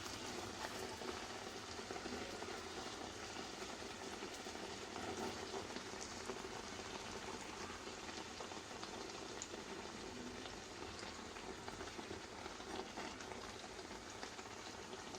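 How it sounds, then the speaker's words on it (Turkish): Steady, dense sizzling and crackling of yeasted pişi dough frying in hot oil, continuous and even throughout with no talking. "Kızgın yağda kızarması lazım"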